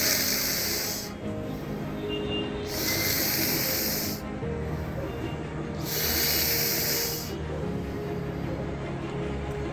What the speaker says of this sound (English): So you can practice the second pranayam, Shitkari. Smile and inhale through your teeth,